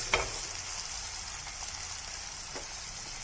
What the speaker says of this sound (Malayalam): കറിവേപ്പില കൂടെ ഇട്ട് കൊടുക്കാം.